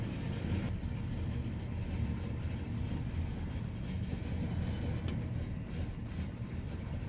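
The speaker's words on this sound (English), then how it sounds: "My first time driving a manual transmission while filming at the same time" A manual transmission car drives along with a steady low engine drone and road rumble from inside the cabin, constant throughout without talk.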